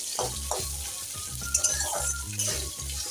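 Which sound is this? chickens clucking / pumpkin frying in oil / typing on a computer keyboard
pumpkin frying in oil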